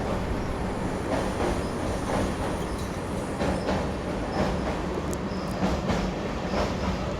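Mahabodhi Express passenger train accelerating past a junction, heard from on board as a steady rumble with rhythmic wheel clicks and occasional sharp metallic squeals, loud and continuous with no talk.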